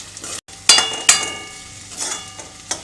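Salted potato pieces being stirred in a frying pan while cooking sago khichdi, with a few sharp utensil scrapes and clinks over a low, quiet sizzle.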